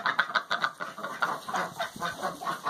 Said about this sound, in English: We got our chickens out of here again.